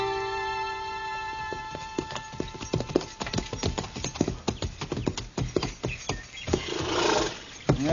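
Horses' hooves clip-clop in an old western radio drama, starting sparse and quickening into a dense run of close hoofbeats, with a tone fading out early and a rising rush near the end.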